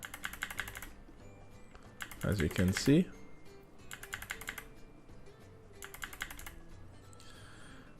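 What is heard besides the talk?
arrow keys tapped on a computer keyboard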